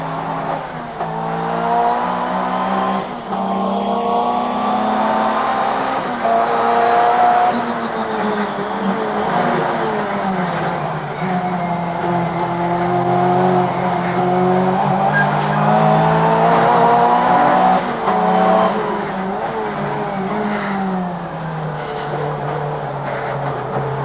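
A 1989 Group A racing car brakes and corners, its engine note rising and falling continuously while tires squeal and skid, loud and close throughout without speech.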